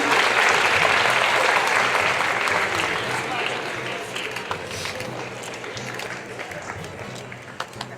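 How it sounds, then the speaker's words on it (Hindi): Loud applause from an audience at a school event in Mandi starts full and dense, then thins out into scattered claps while a voice talks over it. "आपकी तालियां बजती रहनी चाहिए"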